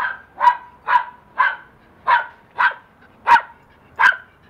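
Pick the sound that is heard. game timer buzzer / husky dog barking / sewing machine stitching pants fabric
husky dog barking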